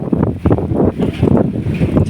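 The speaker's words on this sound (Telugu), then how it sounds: "చాలా విపరీతమైన గాలి వస్తుంది." Strong gusty wind batters the microphone outdoors in a village before rain, a loud, rough, fluctuating low roar throughout.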